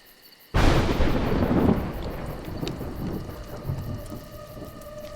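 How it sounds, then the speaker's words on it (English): A sudden loud thunderclap in the video game A Juggler's Tale bursts in after near silence, then rolls on as a long, heavy rumble with a rain-like hiss, with no voices. "Mud, thunder and lightning are terrible opponents."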